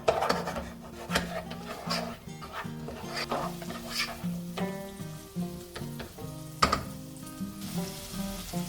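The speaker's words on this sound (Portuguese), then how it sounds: "E deixa caramelizar a cebola" Sliced onion caramelizing in butter left over from cooking shrimp for a shrimp risotto, a soft continuous sizzle with occasional scrapes, running steadily beneath louder background music.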